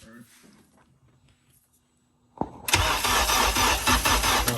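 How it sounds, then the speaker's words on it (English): A supercharged Honda K24 engine in a DC2 car cranks briefly, then catches and fires into a loud, steady running roar after a quiet stretch. "Oh yeah, it's firing."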